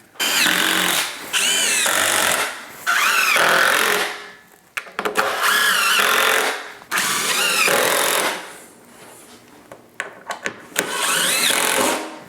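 A cordless power drill drives screws into wooden box beam framing in several loud, close bursts of whining motor, separated by short pauses, clicks and clatter of handling.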